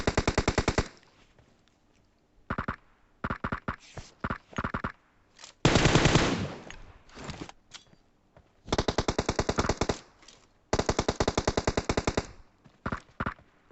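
Automatic gunfire in a video game comes in rapid bursts, separated by short pauses, with a heavier continuous volley in the middle, all loud and close with no talking.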